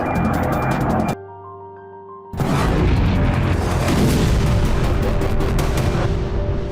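A loud, continuous roar of distant blasts and rumbling booms from missile interceptions over Sevastopol, Crimea, briefly cut by a quieter gap with a steady hum, then resuming dense and sustained.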